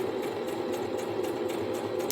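Sewing machine running a basic straight stitch along a pillow seam, a steady fast mechanical whir with an even rapid pulse, close and continuous.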